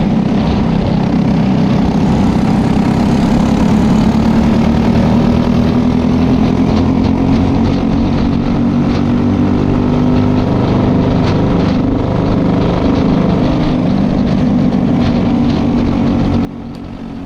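Several go-kart engines drone loudly and steadily at a kart race, with a continuous high whine that shifts slightly in pitch as karts run near, then drops off abruptly at the end.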